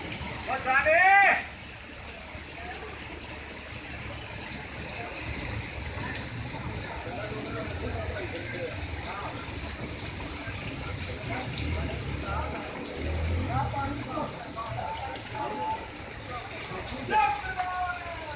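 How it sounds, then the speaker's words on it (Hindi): Heavy rain pours down in Lahore, a steady, dense hiss that fills the whole span, with faint voices showing briefly near the start and end. "गाइस, बारिश अभी भी नहीं रुकी है। ये देखें, मज़ीद बारिश और तेज़ हो गई।"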